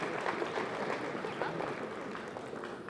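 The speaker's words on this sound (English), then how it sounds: "Crowd applauding that one here as well." Curling arena crowd applauding a shot at a Scotties women's curling match, a soft, distant patter of clapping that holds steady and fades slightly toward the end.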